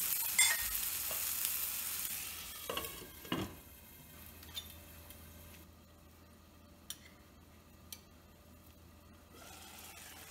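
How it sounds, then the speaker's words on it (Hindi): Tomatoes cook for chutney in a covered pan, giving a faint, steady sizzle with a few soft clinks and scrapes of utensils against the cookware, with nobody speaking. "टमाटर थोड़े से पक जाएंगे तब तक इसको कुक करने के लिए ढक देंगे"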